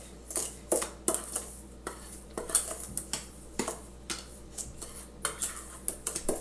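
A metal spoon stirs dry brownie ingredients in a bowl, with repeated close scraping and clinking strokes in an uneven rhythm, no voices.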